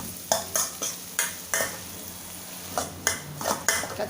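Thin Thai garlic frying in oil over low to medium heat, with a soft sizzle under repeated sharp scrapes of a utensil against the pan, roughly twice per second with a short pause midway.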